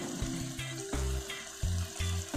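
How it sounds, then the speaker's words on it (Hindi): Grated carrot halwa with sugar being stirred and roasted in a pan, with repeated scraping strokes and a soft sizzle in an uneven rhythm, close up and with no talking. "ये इसमें चीनी डाल के इसको मैं भून रही हूँ।"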